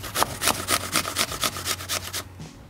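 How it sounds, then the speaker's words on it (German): An apple grated around its core, a steady series of about a dozen rhythmic rasping strokes, close and fairly loud, stopping abruptly near the end. "Und wir brauchen einen Apfel, den müssen wir reiben"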